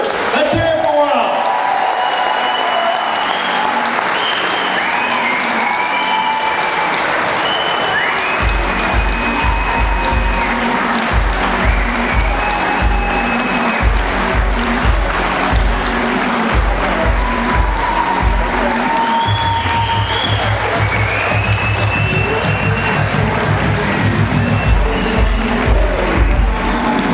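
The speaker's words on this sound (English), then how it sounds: "that's why you're all going to give them a big round of applause" A crowd applauds and cheers for the 2010 Monster Energy Kawasaki factory race team and its riders at a WORCS off-road racing event, loud sustained clapping that swells in waves, with a PA announcer's voice and low rumbling noise running beneath.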